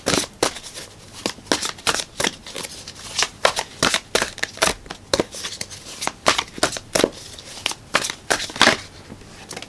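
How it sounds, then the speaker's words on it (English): Oracle card decks are shuffled in quick, crisp riffling bursts, roughly twenty short papery snaps repeating at a steady rhythm, close and fairly quiet. "let's pull final advice cards from these Oracle decks"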